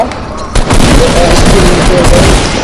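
Shotgun fire in a Fortnite Battle Royale match, a new heavy shotgun, with loud dense bursts that run continuously across the clip, mixed with excited talk from players.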